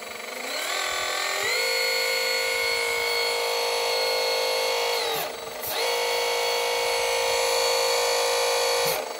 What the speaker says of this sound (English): I just have to increase the power of the pump